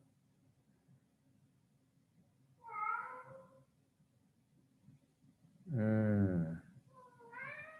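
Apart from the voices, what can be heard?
cat meowing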